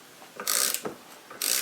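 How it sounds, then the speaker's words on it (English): A gear puller works a bearing off an old Hickey Sidewinder winch, giving two short bursts of sharp ratcheting clicks close by, with a faint mechanical knock between them. "I'm going to use a puller and see if I can't get this bearing off"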